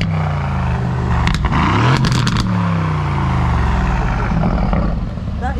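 A supercharged Aston Martin V8 Vantage fitted with OPF delete pipes rumbles and revs close by, a deep throbbing exhaust note swelling and easing with a few sharp crackles and pops, with no talk over it.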